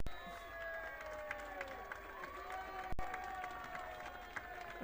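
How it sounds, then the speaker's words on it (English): High school football crowd at a Carthage versus Willard game reacting after a kickoff touchback with a faint, distant murmur and scattered cheering, heard beneath a steady tonal whine. "Little Bronx cheer."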